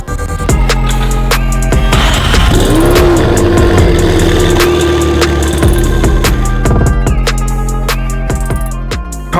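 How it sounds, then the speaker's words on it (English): McLaren car engine idling loudly while warming up after an oil change, a steady close rumble with a sustained whine in the middle and scattered sharp clicks and knocks over it. "Car is super loud. We're gonna let it warm up and get to temperature."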